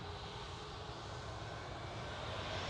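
A Ryanair Boeing 737 MAX 8 bound for Prague at Manchester Airport gives a steady, broad jet engine roar at a distance, holding even and slightly swelling toward the end, with no talking.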